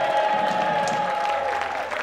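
An audience at a song contest applauds and cheers in a steady, full burst of clapping that fills the hall, slightly thinning toward the end.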